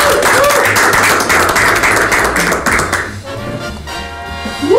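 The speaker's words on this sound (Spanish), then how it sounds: "Aplausos." Clapping crowd, a dense burst of hands for about three seconds that then dies away into a quieter, tonal background.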